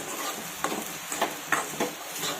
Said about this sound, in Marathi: आता हे सर्व आपण परतून घेऊयात